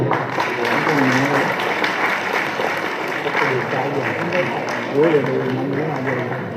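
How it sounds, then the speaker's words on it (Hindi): An audience claps at a student prize distribution as a retired police official is honored, with the applause mixed under voices and crowd murmur throughout. "जोरदार तालियां"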